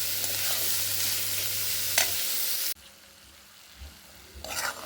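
Onion and garlic fry in oil, a loud, dense sizzle that holds steady and then drops off sharply, after which only faint scraping and a brief rise of frying noise return at the end.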